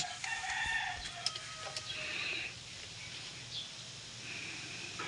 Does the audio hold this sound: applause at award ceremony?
no